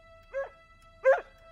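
A cartoon dog gives two short, bright barks about half a second apart, clean and close over a faint steady tone, with no talking.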